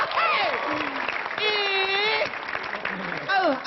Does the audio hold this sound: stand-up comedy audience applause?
yes